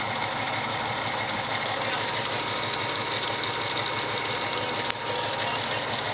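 A 2001 VW Jetta GLS with a 12-valve VR6 engine idles with misfiring cylinders, a loud, steady, close drone with an uneven pulsing knock throughout.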